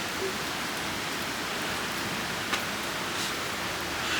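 Rain falls steadily outside by a hotel sidewalk, a dense, even hiss of drops on pavement that fills the whole stretch at a constant, fairly loud level with no voices.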